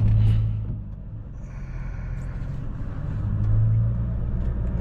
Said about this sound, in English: My man about to pull off right into me.